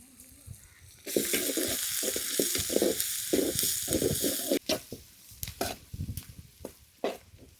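Onions, curry leaves and green chillies frying in oil in a pan: a loud, steady hiss and sizzle that breaks into bursts of crackling and stirring toward the end.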